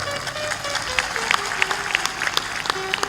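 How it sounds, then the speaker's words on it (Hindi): Audience clapping at a spiritual discourse by Sant Shri Asaram, a dense patter of claps with scattered sharper hand strikes and faint crowd noise, moderately loud and steady. "जोर से ताली बजाया करो।"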